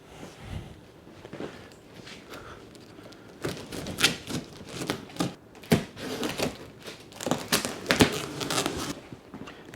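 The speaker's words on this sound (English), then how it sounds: "Got my handy dandy Bear Grylls knife to cut all this tape." Knife slicing through packing tape on a cardboard box for a Lectric XPeak electric bike, a close series of irregular sharp rips, scrapes and cardboard thumps that grow busier partway through.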